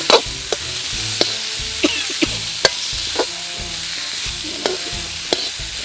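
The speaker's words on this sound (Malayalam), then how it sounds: "മാങ്ങയുടെ കൂടെ ഉപ്പും മുളക് പൊടിയും ചേർത്ത് ഇളക്കുന്നു" Mango pieces are stirred with salt and chili powder for a Kerala mustard mango pickle, making a steady hiss with short scraping and tapping strokes at uneven intervals, close and fairly loud.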